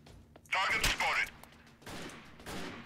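Gunfire crackles in the guerrilla warfare video game Freeman Guerrilla Warfare, a few sharp bursts of shots at moderate distance, with someone talking over the fighting.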